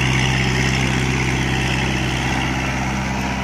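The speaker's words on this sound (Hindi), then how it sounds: "शक्तिमान का रोटावेटर है भाई" A Kubota MU4501 tractor pulls a 6 ft Shaktiman rotavator through a field, grinding leftover crop stalks and wood into the soil. The engine drones steadily and loudly at close range, with no talk over it.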